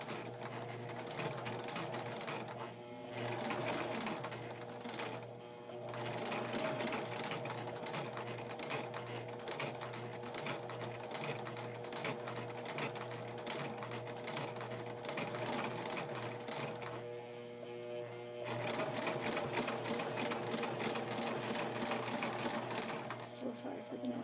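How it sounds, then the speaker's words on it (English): A home sewing machine stitches a quilt hem with a steady mechanical whir and rapid needle rhythm. It runs continuously with brief slowdowns and a quiet voice talking underneath. "then you get your sewing machine out, and you will pick a hem size you want"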